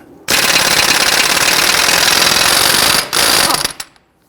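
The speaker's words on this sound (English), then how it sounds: "Using a 30mm 12-point socket, go ahead and loosen the axle nut." Impact wrench loosening the axle nut on a 2006-2012 Toyota RAV4 with a 30mm 12-point socket, a loud, close rapid hammering burst lasting nearly three seconds, a brief gap, then a shorter burst that winds down into quiet.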